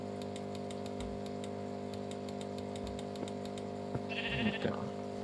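Sheep in the video game Minecraft Bedrock give a short bleat near the end, set against a steady droning game background with faint ticking.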